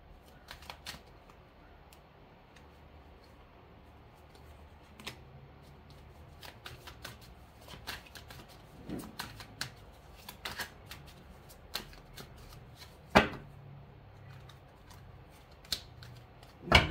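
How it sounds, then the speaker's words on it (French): Tarot cards are shuffled by hand in irregular bursts of crisp riffling and soft slaps, sparse at first and then busier, close and fairly quiet with no talking. "je mets un autre petit tarot"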